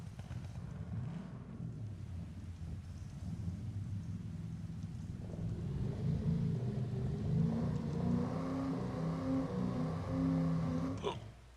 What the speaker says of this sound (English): Listen to this car right here